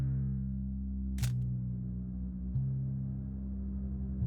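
A phone camera shutter clicks once as a selfie is taken, a short crisp snap standing out over a steady low hum in an otherwise quiet indoor setting.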